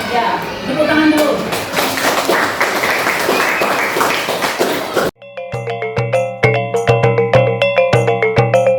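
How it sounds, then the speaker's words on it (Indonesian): A group claps hands together for several seconds, then bright chiming tones ring out in a quick repeating pattern. "Tepuk tangan dulu."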